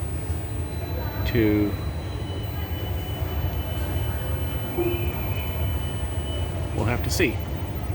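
Train at a Dutch railway station between Delft and Rotterdam, a steady low rumble and hum filling the platform with faint squeals, while a person talks briefly over it.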